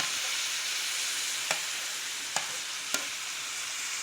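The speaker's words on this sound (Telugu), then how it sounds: "ఇప్పుడు మనం టమాటీలు వేసుకోవాలండి" Tomatoes tipped into a frying curry and stirred, giving a steady sizzle with three sharp clicks of a spoon against the pan, no voices.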